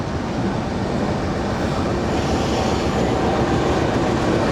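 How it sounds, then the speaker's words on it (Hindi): A GU20 diesel locomotive, a 2000-horsepower American-built engine, arrives at a rural Punjab station after changing direction, giving a steady, rumbling roar at close range with no voices. "8:19 पर लोकोमोटिव आ चुका है अपना रुख तब्दील करके"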